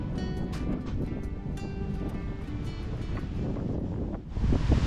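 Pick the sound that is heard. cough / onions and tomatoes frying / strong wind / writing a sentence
strong wind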